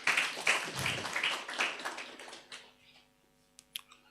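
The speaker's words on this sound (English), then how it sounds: "Can we give him a clap in his absence?" Audience applause at an annual medtech hackathon event, a burst of many hands clapping that swells across the room and then fades out, leaving a few scattered claps near the end.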